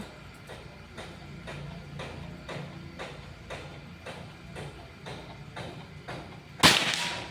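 A Predator Pajero Gen 6 air gun fires once, a sharp loud crack near the end, after a run of evenly spaced soft clicks.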